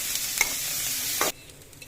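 Onions and green chilies sauté in a pan for a raw banana poriyal, a steady close sizzle with a couple of stirring scrapes before it suddenly drops away.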